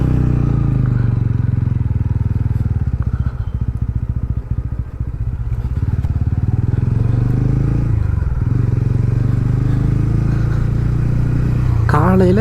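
A TVS Ronin 225 motorcycle rides along a road on a hill-country trip, its engine a steady low drone with wind buffeting and some rattling over the ride, and a voice briefly talks.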